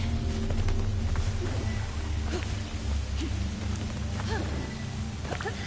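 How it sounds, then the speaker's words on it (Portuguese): Steady rain patters in a forest in the video game Kena: Bridge of Spirits, over a low rumbling background, with occasional small splashes and chirps; no talking. "Mano, tá chovendo na floresta aqui,"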